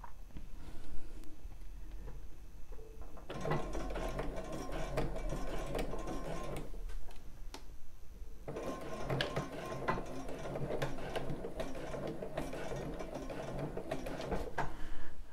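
A domestic sewing machine runs a bar tack on bra fabric, stitching backwards and forwards in two steady mechanical bursts of rapid needle ticking separated by a short pause, close and clear.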